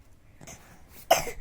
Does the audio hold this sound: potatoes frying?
no